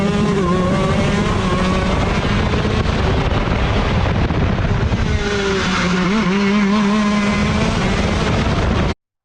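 A shifter kart engine screams loud and close through turn 7, its pitch dipping as the kart brakes and downshifts, then climbing again as the throttle reopens on exit.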